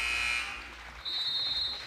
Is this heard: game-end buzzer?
yes